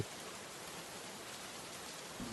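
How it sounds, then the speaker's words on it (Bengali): Steady rain falls continuously, a dense even hiss with no breaks, fairly quiet and unaccompanied by voices. "কি যে বৃষ্টি শুরু হলো! কাল থেকে একরকম বৃষ্টি হয়েই চলেছে।"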